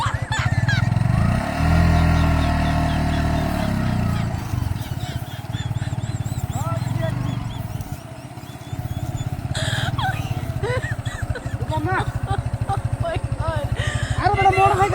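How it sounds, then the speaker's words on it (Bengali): A big motorcycle runs along a road, its engine droning steadily and rising at moments, while people talk loudly over it for most of the stretch. "আরে বড় মোটরসাইকেল চালাইতেছে"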